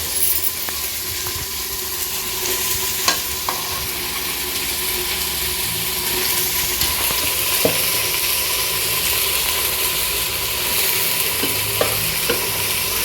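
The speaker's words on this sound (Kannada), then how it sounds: "ಬೇಳೆ ಹಾಕಂತ ಇದ್ದೀವಿ ನೋಡಿ ಒಗ್ಗರಣೆಗೆ" Split field bean (avarebele) lentils sizzle steadily in hot tempering oil close by, with occasional light scrapes and clicks of stirring over the continuous frying hiss.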